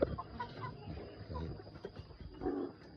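Chickens at a village farm coop beside pig pens in the Pak Ou area cluck and squawk at a middle distance, with irregular bursts of calls over a low background.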